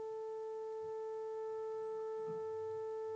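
A steady electronic sine tone from a signal generator plays through a speaker. The pure pitch holds unchanged throughout, with its faint overtones and quiet room noise beneath it.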